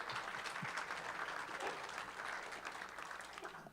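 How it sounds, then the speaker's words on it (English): An audience at Capital Factory gives a round of applause for new founders, a moderate, fairly distant patter of clapping that fades toward the end. "Let's give everyone one more round of applause"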